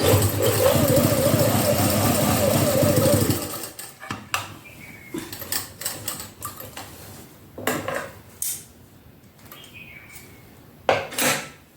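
A sewing machine runs steadily for a few seconds, putting a double row of stitches along a kameez seam, then stops; scattered clicks and light handling taps of the fabric and machine follow.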